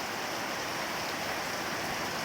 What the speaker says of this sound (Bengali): আজকে যে বৃষ্টি পড়ছে দেখেন